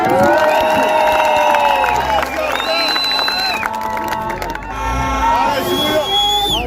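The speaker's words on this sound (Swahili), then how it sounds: "Tuwapigie makofi." A crowd at a Kiambu public participation meeting cheers for county MCAs. Loud, sustained shouting and raised voices mix with scattered clapping, close and dense throughout.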